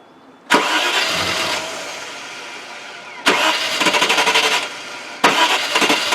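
A Range Rover with a fuel pressure fault cranks and fires three times, roaring loudly up close each time before running briefly and dying out, with abrupt silences between attempts.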